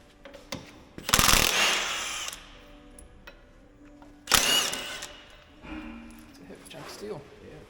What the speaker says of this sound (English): So you ready to start yanking that flywheel housing off?